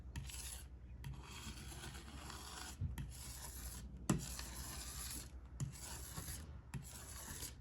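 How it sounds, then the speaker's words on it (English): Palette blade scraping paint residue off a palette surface, repeated rough rasping strokes with brief pauses between them, close and fairly quiet. "this blade will basically clean off all that residue that you want it to on the surface"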